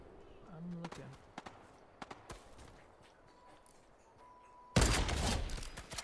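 Scattered Fortnite gunfire during squad gameplay, a few sharp separated shots with players talking over them, ending in a louder sustained burst of noise.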